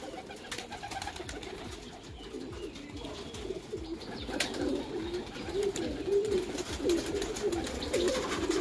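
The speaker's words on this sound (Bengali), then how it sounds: "দেখুন কত পায়রা এখানে, মিনিমাম 200 পিস পায়রা আছে।" Around 200 pigeons, including Laldam, Kaldam and Kalshira breeds, coo continuously inside a room-sized cage, a dense overlapping murmur that swells louder toward the end.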